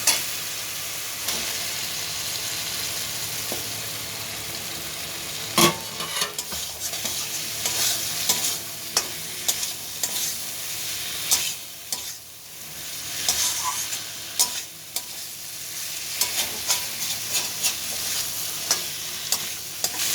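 Close sizzling of fried potatoes and green plantain in frying masala in a pan while a spoon stirs and scrapes repeatedly, with irregular clinks and knocks over the constant hiss.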